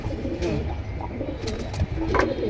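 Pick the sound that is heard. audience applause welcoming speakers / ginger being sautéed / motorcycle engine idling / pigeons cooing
pigeons cooing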